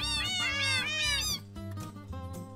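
A cat meows in the video game Minecraft, giving several sharp, high meows in quick succession and then fainter, shorter mews. The sound is clear and close, with no one talking over it.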